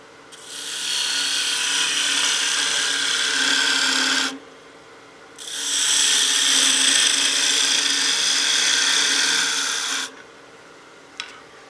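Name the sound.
wood lathe turning wine glass with skew chisel, peel cut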